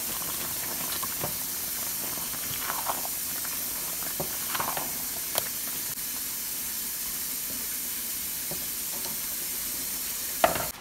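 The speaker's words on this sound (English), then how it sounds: "I will add and I will stir, because I'm gonna be adding all the vegetables into this pot" Vegetables are stirred into a pot of ogbono soup with okra, giving a steady steamy sizzle and hiss with scattered scraping clicks of the spoon against the pot, and no voice.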